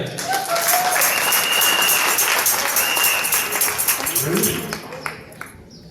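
A church congregation at an Easter service applauds and cheers in a dense, sustained wash of clapping that stays loud and steady, then thins out near the end.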